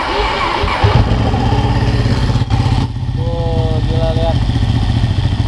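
A Ducati Panigale 1199S with a dry clutch starting up and settling into a loud, lumpy idle nearby, with a rattling mechanical clatter through the rumble; someone talks over the engine.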